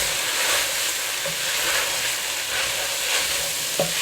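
Boxed Cajun jambalaya rice is stirred in a sizzling pot, a constant close hiss of frying with soft scraping and a sharp spoon knock near the end, no talking.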